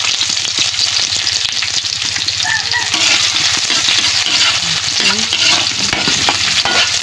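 Garlic and onion sizzle loudly in a hot pan, a dense, constant frying crackle with scraping stir strokes and a few clinks of a utensil running through it.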